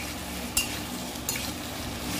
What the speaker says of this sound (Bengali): হ্যাঁ আলু ভাজছি, আলু ভাজি পোস্ত।